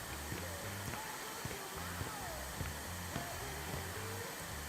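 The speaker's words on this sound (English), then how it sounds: "Holy shit, I am vacuuming up the leaves, though." A handheld leaf vacuum runs with a steady, loud whooshing roar while clearing leaves in the video game House Builder 2, accompanied by evenly spaced footstep thuds as the player walks.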